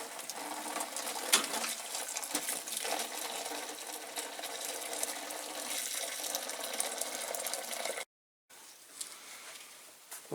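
Water pours steadily into a tank being filled with caustic soda solution, a continuous splashing rush that runs for several seconds, cuts out briefly, then resumes more quietly.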